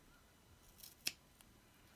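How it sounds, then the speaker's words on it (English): Fiskars non-stick scissors make a single crisp snip during a paper-crafting project for a Valentine's Day card, quiet and close in a hushed room, with faint rustling around it. "They're by Fiskars, won't adhere to the scissors themselves,"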